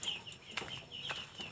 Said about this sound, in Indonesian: Jadi ini ada semua burung di dalam satu kandang nih.